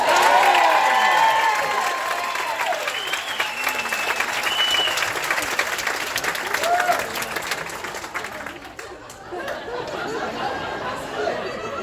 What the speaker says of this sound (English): Give him a round of applause